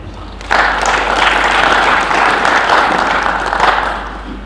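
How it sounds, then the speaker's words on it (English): Audience at a university opening assembly breaks into applause, dense steady clapping that starts abruptly, holds for several seconds, then fades. "Please give yourselves a round of applause."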